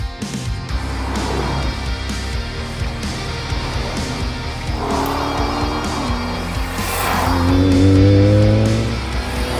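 A BMW E46 M3 sports car is driven hard, its engine revving up and down with rising pitch sweeps while the tyres squeal in bursts, loud and close, with no voices.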